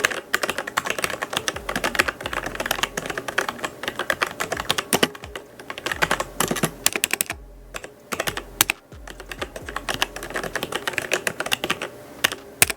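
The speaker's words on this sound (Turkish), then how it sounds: "şimdi klavyemizin çıkardığı sese de hep birlikte bakalım" Rapid, continuous clacking of Logitech G513 Carbon mechanical keyboard keys typed up close, with brief pauses between bursts.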